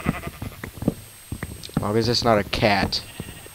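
Minecraft sheep bleat loudly in a couple of wavering calls after someone speaks, and the bleats briefly overlap his voice.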